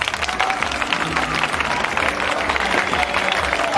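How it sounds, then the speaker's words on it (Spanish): Audience applause for the second team at a 2016 inter-school regional dance awards ceremony in Tlapacoyan, a steady wash of crowd clapping with some cheering voices mixed in. "Aplausos para el equipo número dos."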